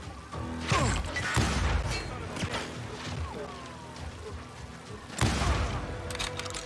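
Shotgun blasts from the western shooter game Call of Juarez Gunslinger sound as several loud booming bursts over steady game noise and clatter, two of them set apart by a few seconds.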